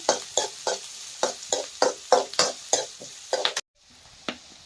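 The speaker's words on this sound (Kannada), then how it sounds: "ಇವಾಗ ನಾನು ಈರುಳ್ಳಿ ಹಾಕಿ ನೋಡಿ ಒಂದು ಒಂದು ಸೆಕೆಂಡ ಚಲೋ ತಂಗಿ ನಾವು ಈರುಳ್ಳಿನ ಚಲೋ ತಂಗಿ ಫ್ರೈ ಮಾಡ್ಕೋಬೇಕು" Onions frying in a pan, stirred with about a dozen rhythmic scraping strokes over a soft sizzle, close by, ending in an abrupt cut to near silence and one last faint scrape.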